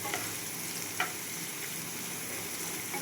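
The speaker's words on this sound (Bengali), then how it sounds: "এগুলো একটু আমি ভালো করে ভেজে নেব, কারণ যাতে গাজরগুলো আর বিনসগুলো একটু সেদ্ধ হয়ে যায়।" Carrots and beans frying in a pan make a soft, even sizzle, fairly faint, with a couple of brief clicks from stirring.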